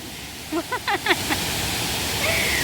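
At Tat Ton waterfall in Ubon Ratchathani, Thailand, the falling water makes a steady broadband rush. A voice briefly calls out over it, and a faint whistle-like tone rises near the end.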